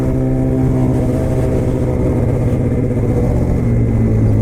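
A Honda Civic Type R engine roars loudly and continuously up close, holding a dense, buzzy, steady drone with slight rises in pitch as it revs.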